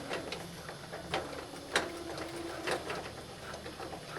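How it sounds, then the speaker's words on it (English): A sewing machine with a zipper foot runs a few stitches forward on a fabric storage pouch, a faint, quick mechanical whir with sharp clicks, heard close and without talking. "I'm going to take a few stitches forward, stop,"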